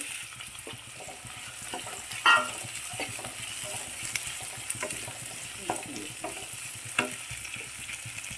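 Ingredients for a clam meat fry sauté in a pan, with a continuous soft sizzle and repeated scraping and clinking stirring strokes, one sharper clatter near the middle, and no speech.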